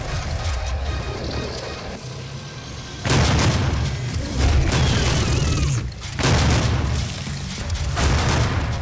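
Shotgun blasts in the Doom video game, a loud dense barrage of booming shots and roaring gameplay noise, repeated in heavy bursts with no talk.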